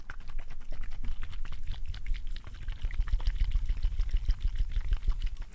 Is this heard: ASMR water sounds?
yes